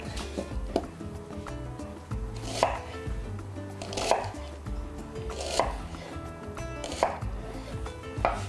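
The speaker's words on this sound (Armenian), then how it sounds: "կտրատում ենք մանր։" A knife finely chops an onion on a cutting board in a home kitchen, crisp close-up cuts landing in quick runs with several louder strikes, no voices.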